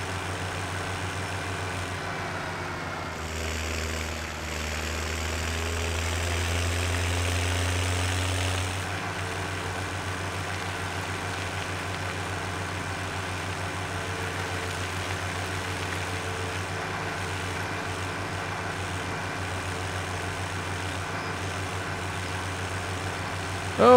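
A farm tractor engine in Farming Simulator 17 drones at a low, steady idle, briefly rising in pitch and loudness for a few seconds before settling back into the even hum, with no voices.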